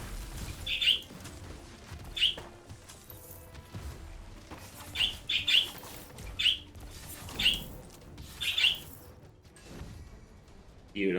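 Chirping birds in the Wizard of Legend 2 video game, quick bright tweets in clusters of one or two, repeating irregularly over a soft background hum, with faint speech now and then.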